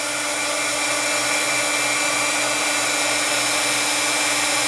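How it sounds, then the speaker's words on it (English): A heat tool blowing hot air to dry paint on plastic in a mixed media project gives a steady, loud, close whooshing whir that holds unchanged throughout, with no speech. "And then I'll hit it from far away with the heat tool, because you don't want to melt your plastic."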